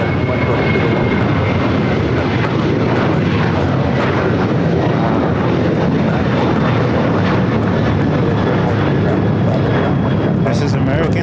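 Jet engines at LAX airport roar steadily and loudly throughout, a broad continuous rumble from airliners on the field.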